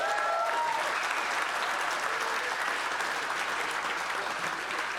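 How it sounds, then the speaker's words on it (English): An audience at an award ceremony applauds a winner: dense, steady clapping from a large crowd throughout, with a faint voice briefly underneath at the start. "Your first winner for the evening, a round of applause."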